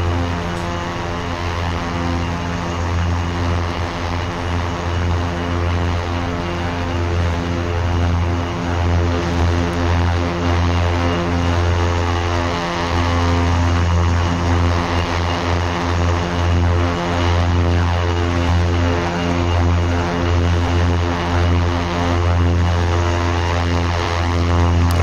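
Steady, loud drone of an OV-10 Bronco twin-propeller aircraft in flight in the DCS combat flight simulator, a continuous engine and prop hum with strong low harmonics lasting throughout without any talk.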